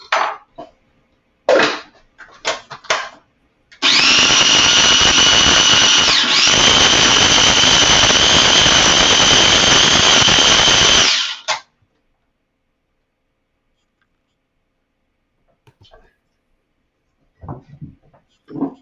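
Food processor blending pesto sauce for hearts of palm pasta: one loud, steady whirring run of about seven seconds with a brief dip midway, between short bursts of clatter and handling before and faint noises after.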